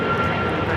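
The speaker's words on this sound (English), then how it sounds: "This is American Airlines 1268 taking off to Dallas Fort Worth on the 777-200ER." An American Airlines Boeing 777-200ER jet roars steadily on its takeoff run at Los Angeles International Airport, a loud, sustained broadband engine rumble heard from nearby with no speech.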